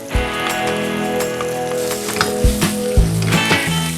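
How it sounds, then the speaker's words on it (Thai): Crab meat stir-fried with garlic and pepper crackles loudly up close, a dense sizzle broken by sharp clanks and scrapes of the spatula against the pan, growing busier toward the end. "แล้วก็ผัดอย่างนี้ไปกับปูให้หอมเนื้อปูให้หอมก่อนนะครับ"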